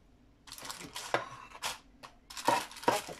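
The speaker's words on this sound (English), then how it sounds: "start spooning this big mixture in" Gingerbread mixture spooned into a baking tin, a series of soft metallic scrapes and clinks of spoon against tin, quiet and close, with no talking.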